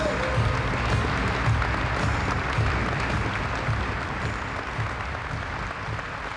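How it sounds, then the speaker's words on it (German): Sustained crowd applause greets the unveiling of the Blue Tiger, a new-generation diesel-electric locomotive, a dense, steady roar of many hands clapping throughout, loud and close with no speech over it. "Und Beifall für den Blue Tiger, mit dem eine neue Generation dieselelektrischer Fahrmaschinen vorgestellt wird."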